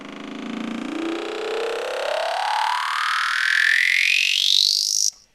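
Synth riser in Ableton Live with an automated auto filter peak, a buzzy tone climbing steadily in pitch over about five seconds, loud and alone, then stopping abruptly.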